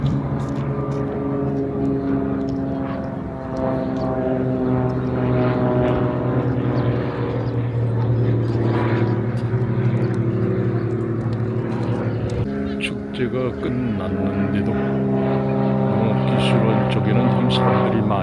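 Propeller trainee aircraft of the air force academy drone overhead near a stream in Cheongju, a loud steady engine hum with shifting pitch throughout, while people talk nearby.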